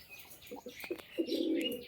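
Giribaz pigeons coo in low, throaty bursts, a few short murmurs followed by a longer rolling coo, with faint chirps and rustling in the background.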